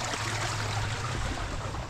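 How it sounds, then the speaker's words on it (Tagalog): A strong flow of pool water drains into a stream at a farm, a steady loud rushing and gurgling that is close and unbroken. "lakas ng tubig oh"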